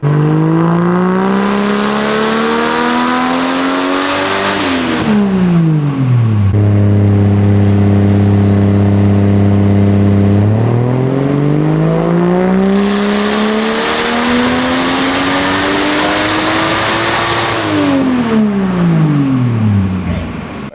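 A loud, tuned 600 wheel-horsepower car engine with 2 PSI more boost revs hard on a dyno, its pitch climbing and falling through long sweeps, holding high at full throttle between pulls.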